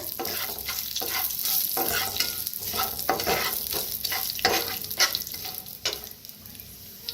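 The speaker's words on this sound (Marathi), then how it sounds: "जी धन हे बारीक करून घेतलं होतं आपण ते तेलात भाजून घेऊया।" Ground coriander roasting in hot oil in a pan while cooking kachori filling, with a steady sizzle and repeated scraping stirs throughout, close and moderately loud.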